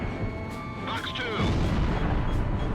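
Missile launch in the combat flight game Ace Combat Zero: a loud whooshing burst over a constant jet engine roar, with radio chatter from a voice.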